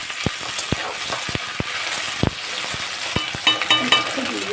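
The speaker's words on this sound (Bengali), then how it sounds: "এই দেখো ভেন্ডি ভাজা চলছে" Boiled, cut okra fries in a pan without salt or turmeric, giving a low, steady sizzle marked by several sharp clacks of a utensil against the pan and a few faint scraping strokes near the end.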